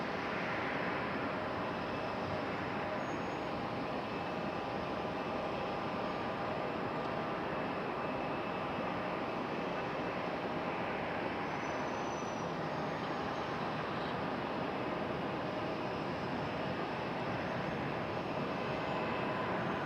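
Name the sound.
Boeing 777 airliner engines at airport runway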